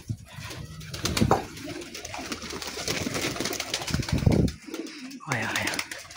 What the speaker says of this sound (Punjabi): ਚੱਲ ਆਪਣਾ ਕਬੂਤਰ ਛੇੜਦੇ ਹਾਂ ਕੋਈ